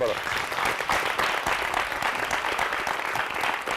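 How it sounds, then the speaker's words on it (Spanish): Studio audience applause on a Spanish-language talk show, a full, steady burst of clapping sustained throughout. "te felicito, un aplauso de verdad"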